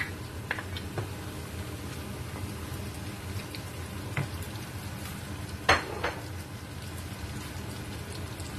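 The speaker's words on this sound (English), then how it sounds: "Then you add your tomatoes." Tomatoes fry in a pot for Nigerian egusi soup with a soft, continuous sizzle, broken by a few brief clinks and scrapes of stirring.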